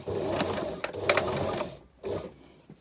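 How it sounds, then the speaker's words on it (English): A sewing machine back tacks along the folded edge of a fabric contour dart, running in a close, steady mechanical whir that pauses briefly and then starts again in a short burst. "we're going to back tack up that folded edge"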